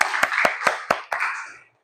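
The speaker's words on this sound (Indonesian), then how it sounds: "Tepuk tangan untuk Anggi" Classroom of students claps for a classmate in five or six crisp, evenly spaced unison claps, close and loud, ending with a short fading ring.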